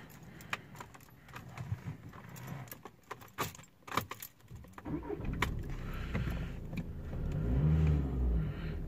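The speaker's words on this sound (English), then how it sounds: "let me just turn the engine on" Keys jingle and rattle briefly, then the engine of a 2014 Audi A3 turns over and settles into a steady, low idling rumble close by.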